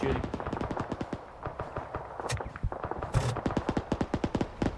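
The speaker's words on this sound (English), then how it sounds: "You keep shooting." Rapid automatic gunfire in the ARMA 3 military shooter, dense bursts of sharp shots that continue almost without pause, with a few louder cracks among them.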